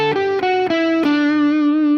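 A distorted electric guitar plays a short phrase of four notes in a Mixolydian major-third lick, stepping down in pitch and then ringing out on a sustained note, loud and saturated, with no voice.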